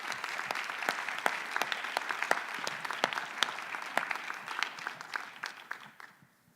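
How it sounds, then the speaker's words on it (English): A conference audience at a hospital medicine general session claps for a physician presenter, with steady applause of crisp individual claps that thins and fades out at the end. "join me in giving a round of applause for Dr."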